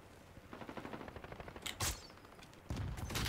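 Rapid bursts of automatic gunfire in the video game Call of Duty: Warzone's Clash mode, fairly quiet at first and then punctuated by two sharper, louder shots near the end.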